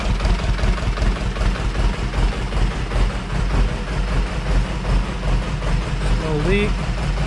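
Diesel engine on a homebuilt two-cylinder hydraulic log splitter idles steadily and loudly up close, a continuous low rumbling drone with no breaks.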